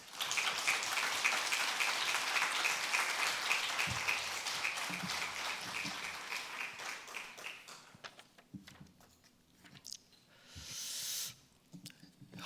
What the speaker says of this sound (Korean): 우리 박수로 목사님을 모시도록 하겠습니다